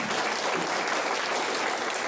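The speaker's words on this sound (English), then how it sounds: "big round of applause." A crowd at a municipal all-candidates meeting applauds steadily, a dense, even wash of clapping that holds for about two seconds with no voices over it.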